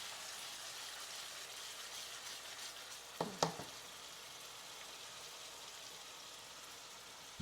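Roasted, ground onion paste frying in hot oil, with a steady broadband sizzle throughout and a couple of brief clatters of stirring near the middle.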